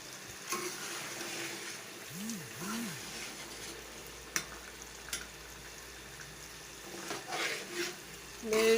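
Zucchini and beef fry in a pot for curry, giving a soft, continuous sizzle broken by the scrape and clatter of stirring, plus a few sharp utensil knocks against the pan.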